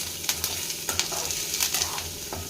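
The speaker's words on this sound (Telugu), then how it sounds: "ఎర్రగడ్డ కొంచెం కలర్ చేంజ్ అయ్యేంత వరకు కలుపుతూ ఉండాలండి" Onions frying in a pan while being stirred, a close steady sizzle broken by repeated scraping strokes of a spoon against the pan in an uneven rhythm, with no talking.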